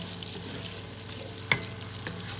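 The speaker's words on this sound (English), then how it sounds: "I'm still cooking the bacon" Bacon crackles and sizzles steadily in a pan before the onions go in, a soft continuous frying hiss with one sharper pop partway through, close and fairly quiet with no talking.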